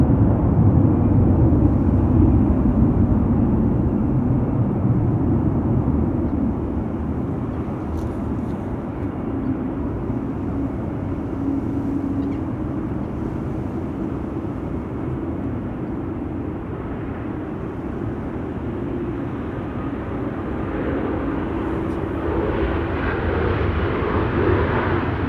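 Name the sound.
airplane at Amsterdam Schiphol Airport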